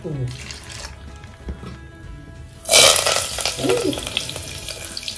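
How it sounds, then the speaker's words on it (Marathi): Curry leaves and garlic go into hot oil for a tadka. A sudden loud burst of sizzling follows and settles into a steady crackle, with a voice talking before the burst. "कढीपत्ता आणि ही लसूण फोडणीत घातली आपण"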